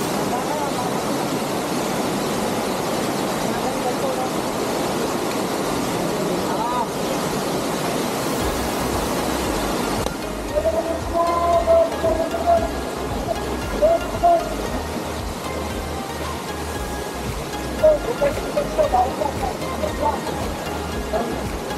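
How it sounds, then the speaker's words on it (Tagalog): Kilangin Falls, a jungle waterfall in Liliw, Laguna, gives a constant loud broadband roar of rushing water that fills the whole span, with a voice briefly heard under it. "At sa wakas ay nakarating na rin tayo sa Kilangin Falls."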